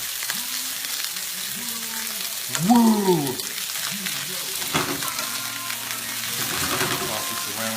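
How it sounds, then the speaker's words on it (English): Garlic asparagus sautés in a hot pan, a loud, steady sizzle with scraping as it is tossed and stirred, while a voice briefly whoops partway through. "So meanwhile we got the asparagus going. sizzle, feel the sizzle."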